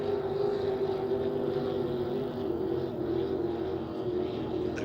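Racing speedboats at the St George Speedboat Spectacular, a steady, loud engine roar from boats passing on the water, a continuous droning wash of sound with no talk.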